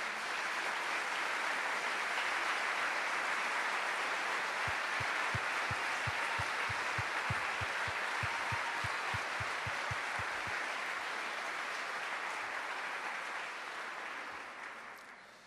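A church congregation applauds steadily in a broad, even wash of clapping that holds for most of the span and then fades slightly toward the end, with no voices over it.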